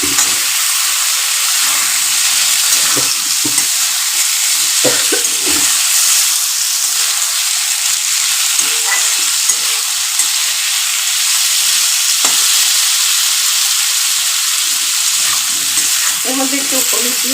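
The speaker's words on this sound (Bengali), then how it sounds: "এবার এটাকে একটু ভাজতে থাকবো।" Potatoes and eggplant fry in a pan with loud, close, unbroken sizzling and hissing, with occasional stirring clatter and pops throughout.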